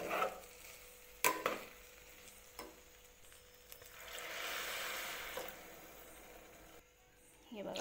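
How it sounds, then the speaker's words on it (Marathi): Water pours into a pressure cooker for rice khichdi, a steady splashing rush that swells in the middle, with clatters and handling noises around it. "आता याच्यामध्ये आपण पाणी टाकणार आहे."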